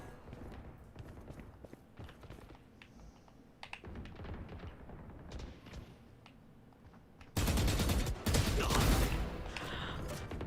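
Gunfire from an esports shooter game at a T1 vs Trace Esports watch party, with bursts of rapid shots that grow loud and dense in the final seconds, mixed with keyboard clatter.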